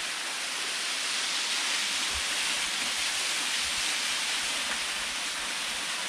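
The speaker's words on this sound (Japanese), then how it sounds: "こんな小さなせせらぎなんですけど、" A small mountain stream on a hiking trail to a waterfall on Mount Mitake gurgles and rushes in a steady, close wash of flowing water with no voices.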